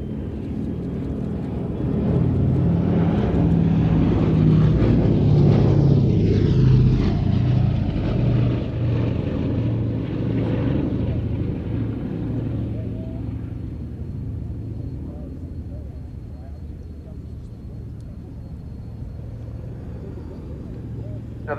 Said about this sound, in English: this aeroplane is privately owned and operated by B-17 Preservation